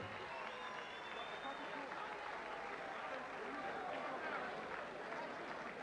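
A boxing crowd applauds a new South African Junior Bantamweight champion, a dense, steady wash of clapping that holds evenly throughout, with faint chatter mixed in.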